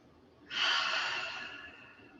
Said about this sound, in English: Couple clearing breaths.